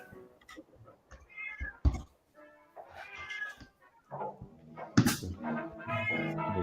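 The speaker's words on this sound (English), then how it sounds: "You hear the cats loud and clear." Several cats meow loudly and repeatedly at close range, with harmonic cries rising and falling and overlapping one another, and no talk over them.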